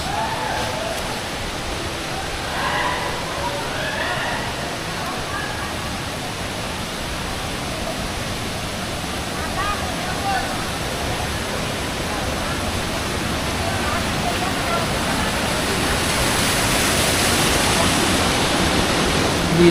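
Taytay Falls in Majayjay, Laguna roars as a steady, dense wash of falling water, loud and unbroken throughout, growing slightly stronger toward the end.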